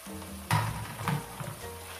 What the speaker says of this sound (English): fry inside the tomato and oil for 10 minutes.